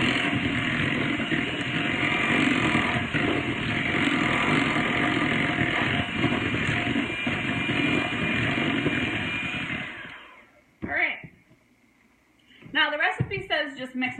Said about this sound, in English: I'm just going to mix it up real quick. It's going to get loud.